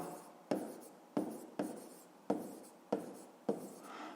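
Handwriting on paper, likely pen or pencil, during a fifth-grade maths lesson: six firm strokes roughly every 0.6 seconds, each a sharp scratch tailing off, fairly close and quiet with no voice.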